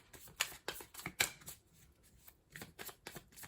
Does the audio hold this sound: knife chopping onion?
no